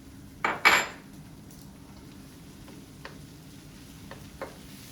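Garlic and onion sizzle softly in a pan while a utensil scrapes and knocks against the metal, with two louder clanks early on followed by quieter stirring taps over a low, steady frying hiss.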